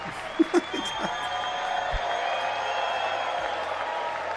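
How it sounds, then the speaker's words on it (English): Steady applause sound effect on a livestream, a dense continuous patter of clapping and crowd noise with a few louder bursts near the start. "Every single sentence. You get an applause."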